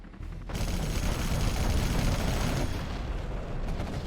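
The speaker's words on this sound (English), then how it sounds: "And it is a fuel air bomb." A fuel air bomb detonates in the real-time strategy game C&C Generals Zero Hour, producing a loud, rolling blast of rumbling and crackling that swells quickly and stays thick and continuous for several seconds, with no voices.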